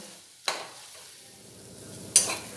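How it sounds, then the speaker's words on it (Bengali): Potatoes and pointed gourd frying in a pan for aloo potol curry, a soft steady sizzle with two sharp stirring scrapes, one early and one near the end, close and fairly quiet. "এবারে আলু আর পটলগুলো খুব ভালোভাবে ভেজে নেব।"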